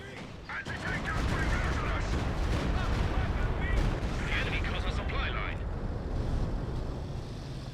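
Dense, rumbling artillery explosions and gunfire from a 2v2 Company of Heroes 2 match, a continuous loud barrage that layers over a commentator's voice.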